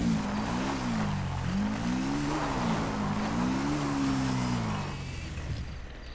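A motorbike engine in the video game GTA 5 drones steadily, its pitch rising and falling in several swells as it rides, then fading slightly toward the end, with no talk over it.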